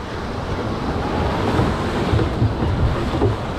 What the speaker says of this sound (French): c'est de l'eau qui rentre dans le bateau